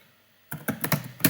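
Quick keystrokes on a computer keyboard, about six close, crisp taps in an irregular rhythm after a short silence, with no voice over them.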